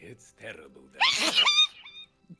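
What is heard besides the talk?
sneeze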